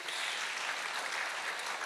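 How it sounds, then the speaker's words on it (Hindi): Sustained audience applause welcoming film directors Kabir Khan, Anand L Rai and Nagesh Kukunoor at a panel discussion, an even, moderately loud hiss of many hands clapping with no voices. "तो जोरदार तालियों के साथ स्वागत कीजिए।"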